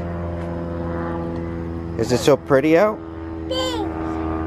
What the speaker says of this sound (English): A plane. That's what we flew on to California with.